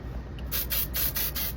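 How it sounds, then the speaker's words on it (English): Several quick hissing bursts of aerosol hair spray, about five short puffs in a loose rhythm, close and fairly loud. "I'm gonna spray that a little bit."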